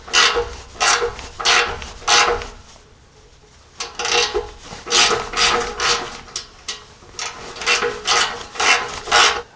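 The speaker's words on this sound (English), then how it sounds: "So basically I'm just going to thread this in there, and it's basically going to help reshape the threads" A thread-chasing tool being turned into an 18mm x 1.5 O2 sensor bung on a Jeep 4.0, making repeated rasping, ratcheting scrapes in short bursts, close and alone, with one brief pause partway through.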